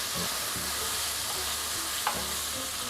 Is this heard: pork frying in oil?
yes